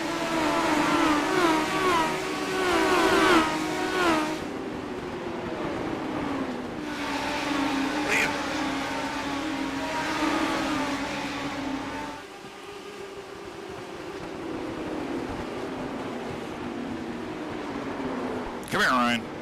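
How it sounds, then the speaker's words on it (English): Legend race car engines revving and rising in pitch at Martinsville, loud and continuous with shifting tones, a louder burst near the end, heard under someone talking. "These Legend cars really sound cool when they get out of gas."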